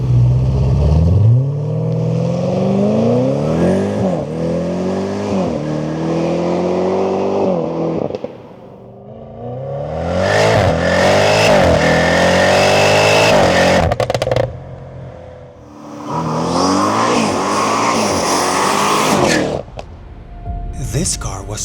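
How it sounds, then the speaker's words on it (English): A 1000hp Audi RS6 GT accelerates hard in repeated loud bursts, the engine roaring and climbing through the gears with brief drops between shifts, with crackles as it lifts off. "just take a look at some of these acceleration scenes."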